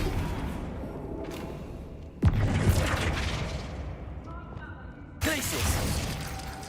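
A Flipendo spell fires in Hogwarts Legacy with a sudden loud thumping burst and a shimmering crackling tail, followed by a second sharp magical impact a few seconds later over steady game ambience.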